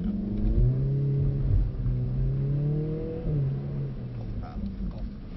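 A Mercedes-AMG 45 S revs hard on a track, its engine note climbing in pitch as the wheels spin and the car accelerates, loud and close, with the pitch dropping briefly before rising again.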